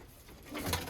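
Iraqi pigeons kept in Germany give a short, soft cooing call that swells near the end, close by over a quiet background.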